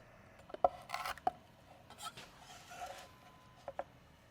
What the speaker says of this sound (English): Take the stems off and then just give them a rough chop.